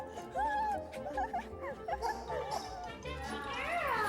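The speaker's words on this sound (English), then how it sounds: "Very happy puppies." Several happy puppies yip, bark and whimper close by in high, overlapping bursts, with people chattering and exclaiming underneath.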